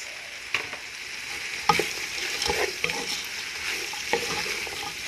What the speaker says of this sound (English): Stir and allow cook for a little bit, 2 minutes